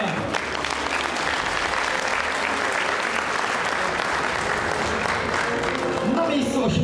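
Sustained audience applause at a political rally in Płock, a dense, even clatter of many hands clapping throughout, with a voice briefly over it near the end.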